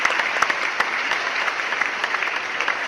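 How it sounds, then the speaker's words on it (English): A sustained round of applause with crisp individual claps popping out of a dense patter, holding steady before cutting off abruptly at the end. "Round of applause."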